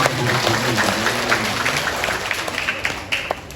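Audience applause at a Balinese Drama Gong comedy performance by Jala Premana of Bangli at the Bali Arts Festival: dense, steady clapping from a crowd, fairly loud and close, tapering slightly toward the end.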